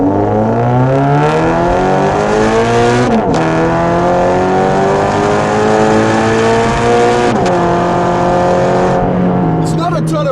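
A 2017 Toyota 86 860 edition engine revs loudly from the cabin, pitch climbing through the gears with two sharp shift drops, then falling as it downshifts toward the end.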